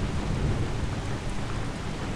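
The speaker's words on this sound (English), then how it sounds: "Is it really necessary for it to start raining right freaking now?" Steady heavy rain pours in a thunderstorm within the real-time strategy game Warhammer 40k: Dark Crusade, a dense loud wash with low thunder rumbling beneath, no voices.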